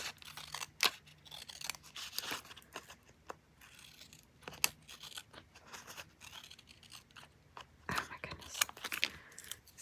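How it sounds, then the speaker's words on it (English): Scissors cutting paper and catching in glue while crafting a Pinterest-inspired envelope stack, a series of quiet, irregular snips and crunchy rustles, close to the microphone, with faint handling noises in between. "Scissors are getting stuck in the glue."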